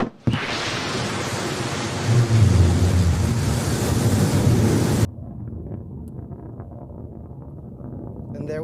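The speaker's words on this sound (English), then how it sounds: "we can hear that BE-3 engine just roaring through the sky." The BE-3 engine of a Blue Origin New Shepard rocket roars during launch, a loud broad rumbling roar heard from a distance in West Texas that cuts abruptly to a quieter steady rumble.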